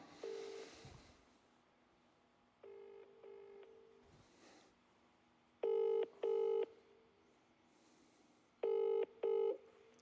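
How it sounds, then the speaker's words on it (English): A telephone call being placed: a dial tone, short touch-tone dialing beeps, then two pairs of loud, evenly spaced ringing tones, fairly close and clear with no talking. "I'm just going to call him straight back again"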